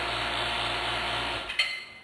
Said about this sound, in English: So first we go ahead and start the vacuum.